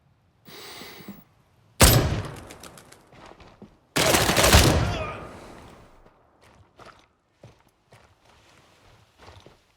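Gray Zone Warfare gunfire: two sharp, loud bursts ring out a couple of seconds apart over a quiet background, followed by scattered faint clicks and small noises.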